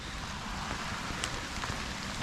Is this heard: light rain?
yes